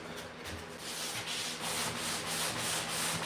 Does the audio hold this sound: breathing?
no